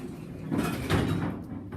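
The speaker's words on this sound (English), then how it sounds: "There goes the door." Vintage Otis traction elevator door sliding shut in an older office building, a close, smooth mechanical rumble swelling and fading over a couple of seconds.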